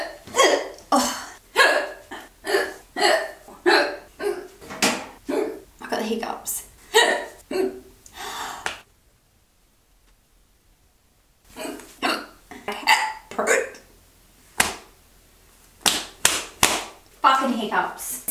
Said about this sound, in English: So I have the hiccups really bad